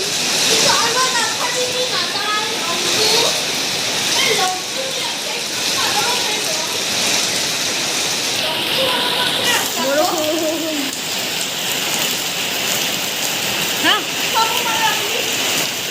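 Heavy rain pours down in a steady, dense hiss while people talk over it.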